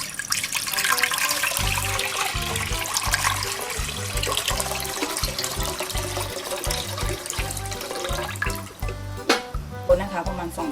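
About two liters of water pour into a cooking pot for boiling cabbage, a steady splashing stream running for several seconds, with a voice speaking over it and a quieter gurgle near the end.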